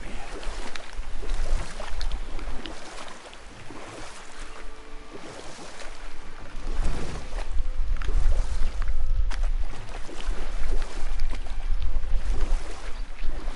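In the video game God of War, water sloshes and splashes around a small boat as oars dip in rhythmically, with a soft wash of waves and wind underneath.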